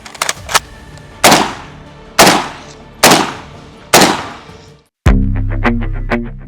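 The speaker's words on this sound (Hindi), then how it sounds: "इसलिए अब नी पर हम आ चुके हैं और सिंगल बर्स्ट पे है और लॉक करके हम फायरिंग की शुरुआत करते हैं।" AK-203 assault rifle fired from a kneeling position in bursts: sharp, loud reports with several rapid cracks at the start followed by four spaced single bangs, each with a ringing tail, then a metallic clanging sequence after a brief silence.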